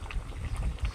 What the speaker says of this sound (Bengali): দেখুন তরকারিটা বেড়াই হয়ে গেছে, আর একটু জল টানলে তুলে নিব।